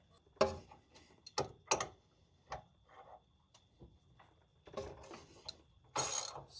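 A ratchet tightens a ball joint nut on a 2001 Dodge Ram 1500 with quiet, scattered bursts of clicking. Short strokes are separated by pauses, with a louder clatter near the end.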